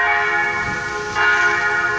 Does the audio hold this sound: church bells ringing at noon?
yes